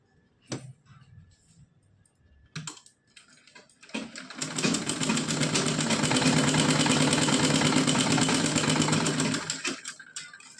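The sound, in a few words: sewing machine stitching a doll dress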